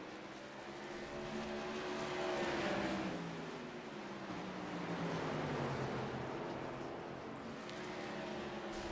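Tour modified race cars on an oval track, engine drone swelling and fading as cars pass by at a distance, a continuous moderate roar.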